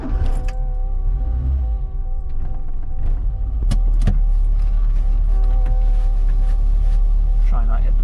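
Ford Capri car interior while setting off on a drive, with a steady low engine drone and rumble, occasional clicks and knocks of the cabin, moderately loud and continuous.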